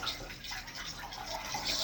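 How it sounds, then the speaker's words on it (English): A mop is dipped into a bucket of water mixed with cleaning fluid, giving a close, continuous wet swish and slosh that lasts about two seconds, with no voices. "dip the mop into the water"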